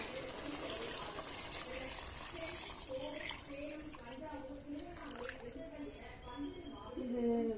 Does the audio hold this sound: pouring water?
yes